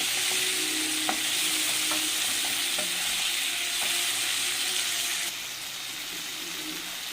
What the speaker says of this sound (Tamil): போட்டுட்டு நல்லா வதக்குங்க.